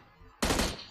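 Gunfire in the mobile battle-royale game PUBG Mobile, a sudden loud burst of rapid shots starting partway through and sustained, preceded by faint background noise.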